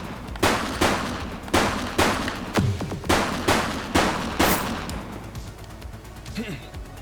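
Gunfire in the police game The Precinct, roughly ten loud, booming shots at an uneven pace, one after another, with a spoken voice running under the bursts.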